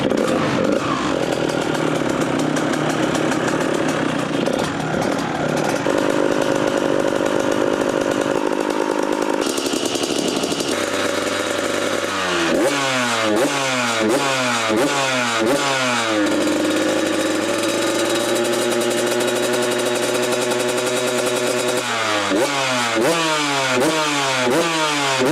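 A 125cc Kawasaki KX 2019 motorcycle engine buzzes loudly, repeatedly revving up and dropping back in sharp, rising bursts, close by and alone.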